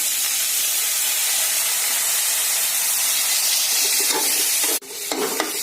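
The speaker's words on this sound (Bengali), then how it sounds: "লঙ্কার গুঁড়ো, জল দিয়ে দিই" Water poured into a hot pan of chili-powder and cumin masala hisses loudly and steadily for several seconds, then cuts off sharply, followed by a few stirring scrapes.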